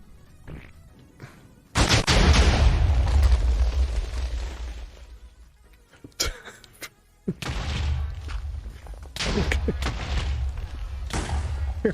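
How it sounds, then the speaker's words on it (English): Explosions in a Minecraft Project Ozone 3 modpack game, with a loud booming blast that rumbles and fades, then further bursts and crackling rumble. "Apparently it was an explosion."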